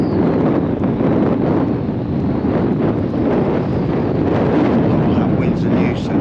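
Steady, loud wind roars and buffets the microphone at a fishing pier on Town Quay, Southampton, a continuous blustery rush with no letup throughout.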